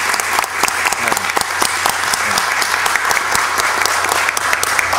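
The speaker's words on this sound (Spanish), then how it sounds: "Un aplauso para el comandante por favor." An audience at a citizen security committee meeting claps steadily for several seconds, a dense patter of many hands with occasional sharper individual claps.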